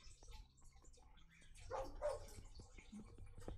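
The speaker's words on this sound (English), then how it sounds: "And that's my dog out there." A dog barks outdoors at a distance, a few faint barks rising over quiet background noise with light dripping water.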